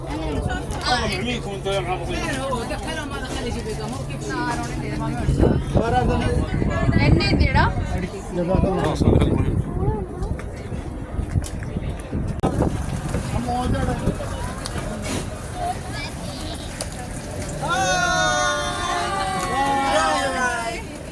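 A boat heads out onto the Red Sea at Yanbu, with a steady engine drone, wind buffeting and water rush filling the clip, while people talk and chatter over it throughout.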